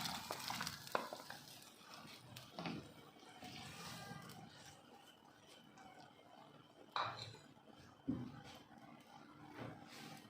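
Onion and capsicum fry quietly in a pan, a soft sizzle beneath occasional scrapes and clinks of a spoon stirring against the pan, with a few sharper knocks standing out.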